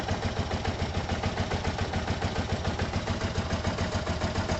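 Yamaha TMAX scooter engine running after a carburettor clean, failing to rev, a steady rapid pulsing idle that stays even and unchanging throughout, close and alone without talk.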